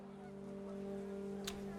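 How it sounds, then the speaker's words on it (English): Panicked geese honk in the video game What Remains of Edith Finch, a sustained, fairly faint nasal honking tone that holds steady, with a brief sharp blip near the end and no talk. "panicked geese appeared and quickly went"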